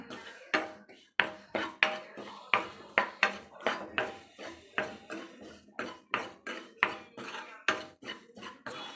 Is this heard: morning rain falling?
no